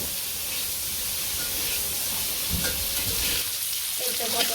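Pointed gourd (potol) frying in a pan, a constant close crackling sizzle with faint hissing and occasional stirring scrapes throughout.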